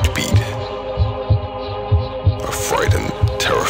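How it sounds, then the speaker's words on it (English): Heartbeat sound effect with a steady lub-dub thump repeating about every second, set over a low sustained hum and eerie tonal drone, loud and close with no talk. "It's the sound of a heartbeat."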